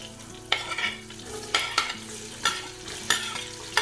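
Garlic, onion and salmon frying in oil for seafood fried rice sizzle steadily beneath repeated sharp scrapes and knocks of a utensil against the pan, roughly every half second to second.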